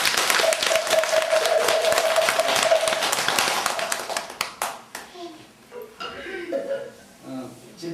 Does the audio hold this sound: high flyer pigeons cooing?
no